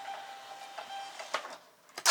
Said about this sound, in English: I'll actually print it on the Robo printer.